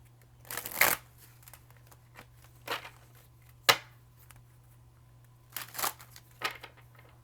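A bulky tarot deck is shuffled by hand in a quiet room, with several soft riffling bursts and slaps spaced a second or so apart, close and fairly faint.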